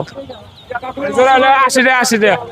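Native chickens cluck and squawk loudly up close amid busy market noise at a poultry market in Tongi, with voices mixed in.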